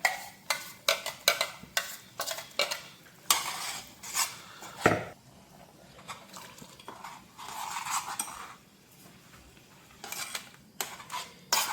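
Ground raw mango curry paste goes into a pot for traditional Udupi-style mango curry, with repeated close clinks and scrapes of a spoon against metal vessels and stirring, in irregular bursts with quiet gaps.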